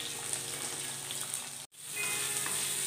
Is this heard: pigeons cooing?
no